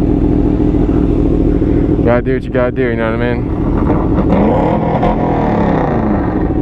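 A rented motorcycle rumbles loudly nearby on a canyon road and revs hard in a rising, falling burst midway, while someone talks over the engine throughout.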